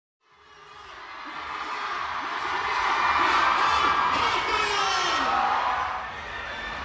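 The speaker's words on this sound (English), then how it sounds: "I'm standing at the edge of this huge crowd that has gathered around this platform on the convention floor" A large crowd roars and cheers around a stage on a K-pop convention floor, a dense wash of voices and whoops that swells steadily, stays loud, then eases slightly near the end.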